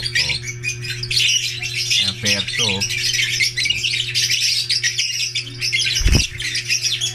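Harsh bird squawks from many caged birds for sale repeat continuously in a loud, busy chorus, with a brief spoken phrase and a low steady hum underneath.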